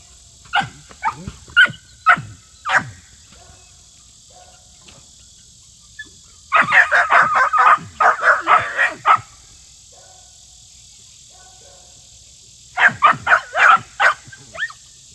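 A guardian dog on a homestead barks loudly and close in three rapid bursts of repeated barks separated by quieter gaps, with a person shouting among them.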